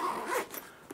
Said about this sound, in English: it can be a little tricky to get the zippers for this pocket out here.